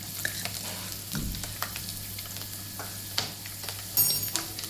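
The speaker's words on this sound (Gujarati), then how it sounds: "એમાં નાખશું લસણની કળી, એમાં નાખશું આપણે આદા" Garlic cloves and ginger sizzle and fry in a pan, a close steady crackle with brief stirring scrapes and no talk.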